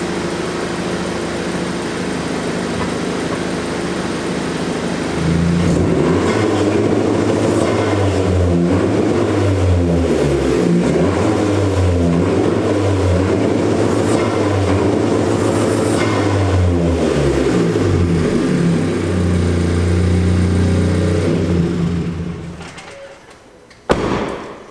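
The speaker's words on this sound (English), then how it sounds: "I'm gonna go ahead and do some Civic Si ASMR for those that wanna hear my car" A Honda Civic Si idles for several seconds, then its engine revs repeatedly in rising and falling sweeps, loud and close, before the revs drop away and it quiets near the end.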